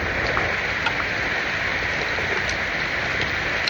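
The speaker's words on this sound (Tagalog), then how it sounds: "Kusog na sa uran, no?" Heavy rain falls in a steady, dense hiss that stays even and moderately loud throughout, with no break.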